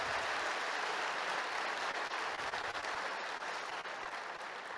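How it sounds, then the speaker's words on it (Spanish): A church congregation claps for Christ during a worship service, a dense, steady wash of applause that holds evenly for the whole stretch without pause. "Dale un aplauso a Cristo"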